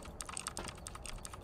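Fast, steady typing on a computer keyboard, a close series of crisp key clicks with no pauses.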